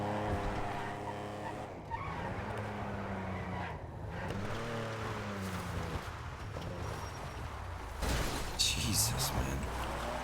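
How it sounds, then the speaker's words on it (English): A sports car's tires squeal and skid through long slides in GTA V, with engine tones rising and falling under someone talking, and a sharper screech near the end. "These cars just love to slide and slide and slide."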